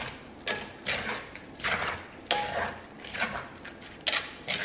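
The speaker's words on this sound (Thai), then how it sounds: "คลุกเคล้าให้เข้ากัน" Thai papaya salad with salted eggs being tossed in a mortar, soft scraping and knocking of the utensil against the bowl in a few short irregular bursts, fairly quiet and close.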